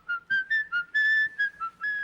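A man whistles a short melodic tune in a film scene, a clear, close run of sustained and clipped notes with brief gaps, alone without talk.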